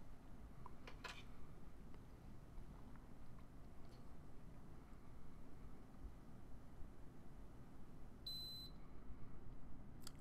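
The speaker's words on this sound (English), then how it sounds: "The SunTech 247 will recognize the new unit and will beep when ready for use." A SunTech 247 vital signs monitor gives a brief electronic beep near the end once a new rectal temperature probe unit is recognized and ready, over steady low background hum.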